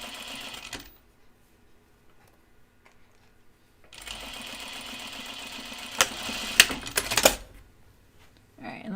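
Sewing machine stitching a waistband on a 1940s New England dress, a steady mechanical run of a few seconds with sharper clicks near the end, between quieter pauses.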